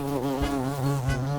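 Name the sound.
buzzing of a carpenter bee (xylocope)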